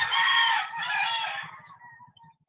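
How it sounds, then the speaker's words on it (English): Roosters crowing in a rural island setting in the morning, two long loud crows back to back, the second trailing off, with low clucking from fowl running steadily underneath. "You'll just hear these roosters in the morning"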